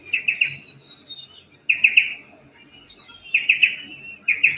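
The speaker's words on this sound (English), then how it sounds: "the sound of the birds" Birds chirp in humid bush, bright quick clusters of three or four tweets repeating every second or so over a soft breezy background.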